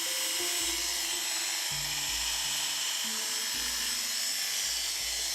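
An Oster A5 Turbo two-speed hair clipper runs close and loud with a steady high motor whine, its pitch stepping between speeds several times, with no talking.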